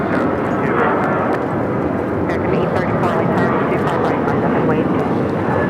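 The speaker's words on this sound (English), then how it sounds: "Our first takeoff of the stream is Air Canada 784 taking off to Toronto on the A321." An Air Canada Airbus A321 takes off at Los Angeles International Airport, bound for Toronto, as a loud, steady, broadband jet roar with a few brief higher clicks, heard without talk.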